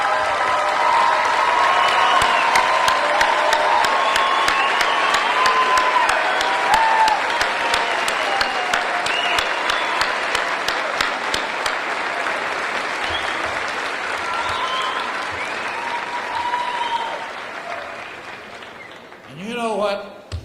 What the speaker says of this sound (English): I want those first generation graduates to stand up right now, and I want to applaud.